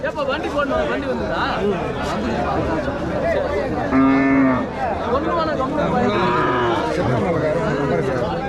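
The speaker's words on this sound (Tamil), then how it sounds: "இதெல்லாம் பசு மாடுங்க கொஞ்சம் அதிகமாக வந்துருக்கு" Cattle moo loudly and repeatedly at a busy cattle market in Tamil Nadu, close by, over a steady crowd hubbub and people talking nearby.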